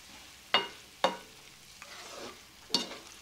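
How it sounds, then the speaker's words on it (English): Taco-seasoned hamburger meat with peppers and onions being stirred in a pan: three quiet, separate scraping clacks of the utensil against the pan, spaced irregularly over a soft background. "now just let me stir this up and get that taco seasoning all over all the meat"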